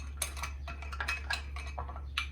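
Quick stir of a cornstarch mixture for beef chow fun, a spoon clinking and tapping lightly against a bowl in a rapid irregular series, faint and close over a low steady hum.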